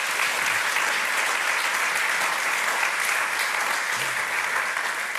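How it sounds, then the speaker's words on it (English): A room full of guests applauds at the official opening of a university research institute, with dense, even clapping sustained at full strength from start to finish and no voices over it. "Round of applause gets in ahead of me."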